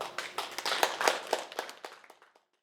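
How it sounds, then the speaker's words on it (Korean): A short burst of scattered clapping from a small academic conference audience, quick uneven claps that thin out and stop within a couple of seconds. "여러분 박수 부탁드리겠습니다"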